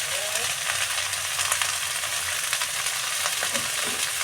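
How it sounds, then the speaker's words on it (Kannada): Two eggs frying with chickpea greens in a pan, a loud, dense, continuous sizzle with occasional stirring scrapes, close and unaccompanied by speech. "2 ಮೊಟ್ಟೆ ಹಾಕಿಬಿಟ್ಟು ಇದಕ್ಕೆ ನಾವು ಇವಾಗ ಚೆನ್ನಾಗಿ ಫ್ರೈ ಮಾಡ್ಕೊಳ್ಳೋಣ"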